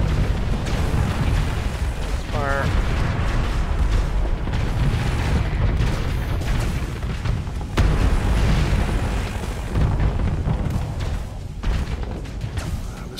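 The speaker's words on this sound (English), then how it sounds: "shields took the rockets or the torpedoes" Rockets or torpedoes slamming into a ship's energy shields in the space combat game Starsector make a dense, continuous rumble of heavy booms and blasts, loud and unbroken, with no talking.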